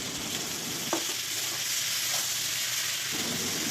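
Vegetables with turmeric, salt, radhuni and ginger paste sizzle steadily in a pan as they are stirred, with a couple of light scraping knocks, close and moderately quiet with no talking.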